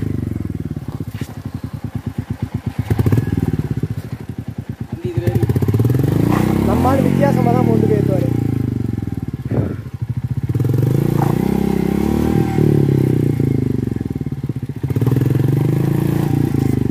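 An off-road vehicle labours uphill on a mountain trail near a waterfall, its engine revving hard while a wheel spins and scrabbles, with clattering and scraping from the ground; people talk over the loud, fluctuating engine throughout.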